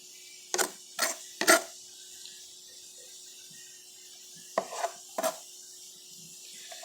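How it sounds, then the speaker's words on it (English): Sharp knife slicing through tomatoes onto a board, a quick cluster of three close chops, a pause, then three more crisp cuts against a quiet background. "my knife is so sharp I can cut these so quickly"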